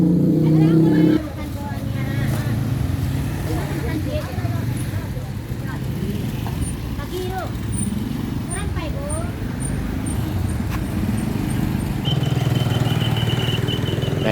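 A three-quarter-size bus rolls along a roadside with steady engine and traffic rumble, other vehicles and crowd babble around it, and people talk nearby.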